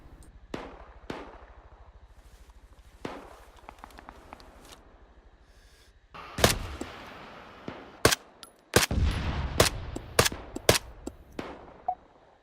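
Gunfire in the military shooter game Arma 3: scattered single shots at first, then a denser run of loud, sharp bursts, some close and some more distant.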